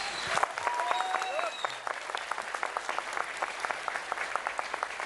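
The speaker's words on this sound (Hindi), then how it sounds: "एक ये प्यार है लोगों का जो इतनी तालियां इतनी देर तक बजती हैं।" Long, steady applause from a large audience welcoming cricketer Virender Sehwag onstage at a News18 Chaupal event, dense clapping that continues without a break.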